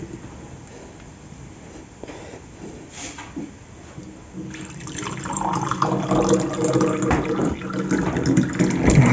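Cold water being poured into a glass, a soft trickling that grows fuller and louder partway through, with a low background hum.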